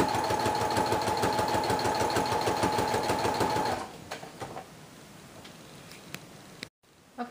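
Sewing machine stitching a homemade dog jacket, a fast regular rattling needle rhythm close up for a few seconds, then stopping into quieter handling clicks.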